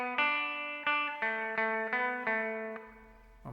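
Electric guitar plays a short single-note phrase, seven clean picked notes ringing one after another at a moderate pace, close and clear, the last note left to fade.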